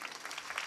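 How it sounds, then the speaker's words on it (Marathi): Dense, steady clapping from an audience at a devotional kirtan for Ashadhi Ekadashi, a brief burst of many hands heard at a moderate distance. "टाळ्या वाजवा ना जोरदार"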